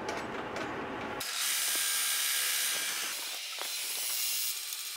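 A home embroidery machine stitches the outline of a design onto a T-shirt, a steady close mechanical whirring with rapid ratcheting clicks that runs continuously after a brief start.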